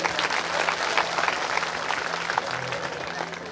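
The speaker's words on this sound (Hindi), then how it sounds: "जोरदार ताली बजाइए" Loud, steady applause from an audience at a devotional gathering in a village, with a faint hum beneath and some scattered voices mixed into the crowd.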